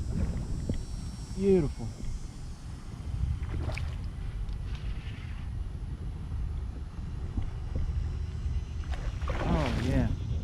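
An Old Town kayak is paddled on open water near a New Orleans campground while kayak fishing, with soft splashes and wind rumble throughout and someone talking briefly.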